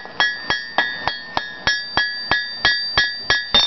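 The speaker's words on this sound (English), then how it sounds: "Light hammer blows just to clean up those edges." Light hammer blows ring out on a hot steel leaf ornament at a blacksmith's anvil, about a dozen evenly spaced metallic strikes in a steady rhythm, close and clear.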